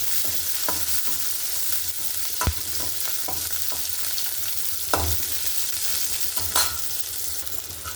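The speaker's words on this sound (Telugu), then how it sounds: "ఆయిల్ హీట్ అయ్యాక పచ్చిమిరపకాయలు వేస్తాను బాగా వేగాలండి" Green chillies fry in hot oil in a pan for a cucumber and tomato chutney, giving a steady crackling sizzle broken by a few sharp clinks of a spoon stirring against the pan.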